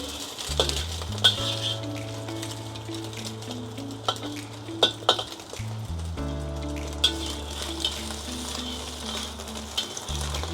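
Spaghetti being stirred in a hot, oiled wok for a tomato and bean pasta dish, with steady sizzling, scraping and occasional clinks of utensil on metal, heard close with no talk.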